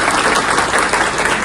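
Dense applause from an audience at a community distribution event for pregnant and nursing mothers, handing out grain kits, oil and ghee, steady and loud throughout with no voices standing out.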